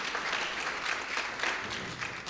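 Applause from a church congregation, steady clapping from a fairly large crowd filling the space throughout at a lively, even level.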